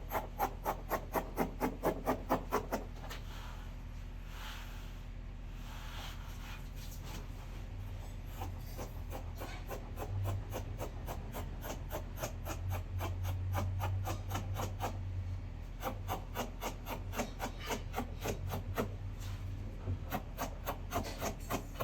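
Scissors cutting through dress fabric on a table, a long run of rapid rhythmic snips and rasping slides, close and fairly quiet, with brief pauses between strokes.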